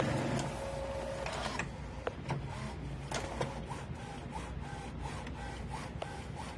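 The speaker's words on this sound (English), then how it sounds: "And now we're printing, hopefully." A printer feeds and prints on photo glossy paper, with rubbing and scraping mechanical sounds, soft clicks and a brief whine near the start, fairly quiet and close with no talk.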